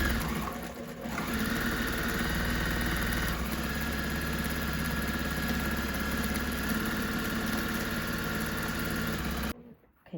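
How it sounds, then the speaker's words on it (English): A longarm quilting machine sews along the top edge of fabric with a continuous, dense mechanical hum and rapid stitching rattle, close and steady for about nine seconds before stopping abruptly. "I'm sewing right along this top edge, and I'm going to stop right before I get to my first pocket"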